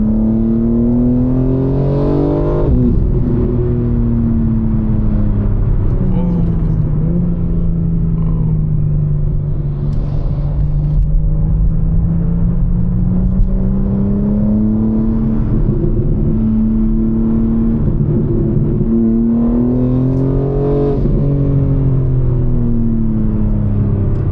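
A BMW M4 Competition with a loud exhaust drones steadily from inside the car while driving, its engine tone rising and falling gently in a continuous, heavy rumble.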